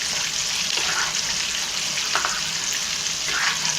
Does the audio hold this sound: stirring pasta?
yes